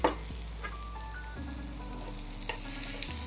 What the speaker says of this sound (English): we will start sauteing it